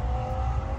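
Starter cranking on a 1986 Nissan 300ZX 3.0 that won't fire, heard as a steady low whirring drone with a faint even whine throughout and nothing catching.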